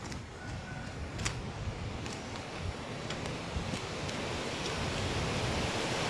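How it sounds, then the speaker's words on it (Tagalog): Steady, roaring wind buffets the microphone, with a constant rushing noise and occasional louder gusts; no one speaks. "Sugeng hangin diri ah."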